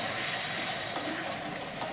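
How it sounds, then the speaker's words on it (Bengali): Hot water hits a pan of spiced pointed gourd, producing a steady, loud hissing sizzle with soft bubbling texture, close and continuous for the whole moment. "এবার আমি হালকা একটু গরম জল দিয়ে দেবো।"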